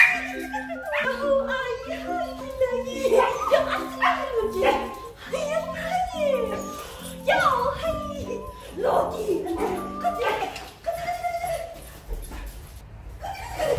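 A pet dog excitedly barking, yipping and whimpering on greeting at a family home, with repeated high whines and yelps close by over a steady beeping pattern, and voices talking at moments.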